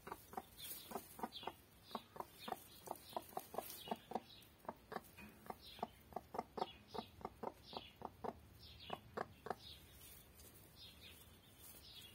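A broody hen clucks repeatedly in a steady rhythm, close by, as she is set on eggs, with short bursts and a few higher calls among them, and no talking.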